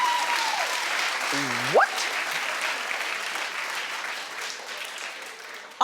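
Studio audience of a daytime talk show applauding in a sustained crowd wash, with a brief spoken question and a short rising vocal sound early on, the clapping fading slightly toward the end.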